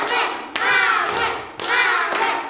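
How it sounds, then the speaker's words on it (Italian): Applause for Manuel in a school classroom, a few loud, sharp bursts of hand claps arriving in separate waves, close and punchy, with no talk over them. "Un applauso per Manuel!"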